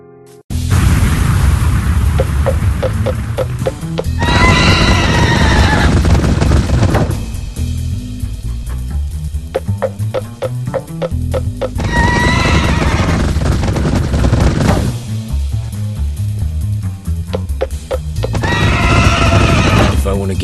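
A demon horse in the Minecraft Nether Monster Hunter game lets out several loud, shrill whinnies and neighs, mixed with hoof clatter, booms and game music.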